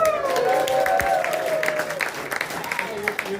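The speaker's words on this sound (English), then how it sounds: "One more round of applause for our panel." Audience applause for a panel at a live event, steady clapping at moderate distance that thins toward the end, with a voice speaking over it early on.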